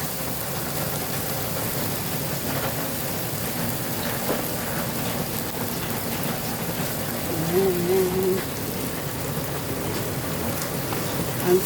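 Constant rain falls on surfaces in a steady, close, hissing patter with no break, and a faint brief tone rises near the end.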